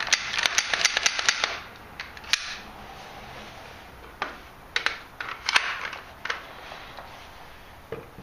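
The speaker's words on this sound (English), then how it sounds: "let's go ahead and clear the weapon" An AR-style rifle with a Ruger SR556 upper being cleared, giving a quick run of sharp metallic clicks and clacks from the action and chamber, followed by scattered softer mechanical taps.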